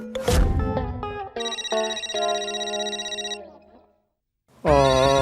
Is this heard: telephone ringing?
yes